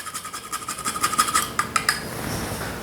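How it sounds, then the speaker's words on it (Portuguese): Whole nutmeg grated by hand for a crumb topping, a rapid run of close, rhythmic rasping strokes against a metal grater, alone with no talk. "vou colocar também um pouco de noz moscada que eu vou ralar aqui na hora"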